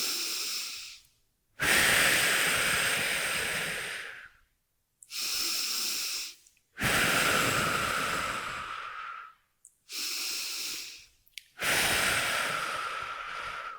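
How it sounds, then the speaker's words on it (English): Deep breathing during a back exercise, with long, loud, close inhales and exhales that alternate in a slow, steady rhythm broken by brief silences. "5 big breaths from that low rib cage. Breathing in, breathe out"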